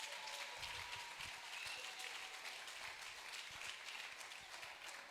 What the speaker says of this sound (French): Applaudissez vraiment, n'ayez pas honte d'applaudir.